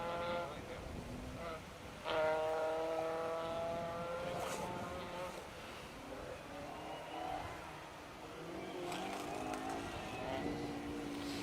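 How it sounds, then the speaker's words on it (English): Toyota Corolla rally cars, including a 1600 Class 8 entry, run a special stage of the R.A.C. Rally and swing through a hairpin, engines rising and falling as they pass, fairly distant, with a commentator talking over them. "The cars make their way out of our camera shot here and turn hairpin right before coming across the top of the bowl"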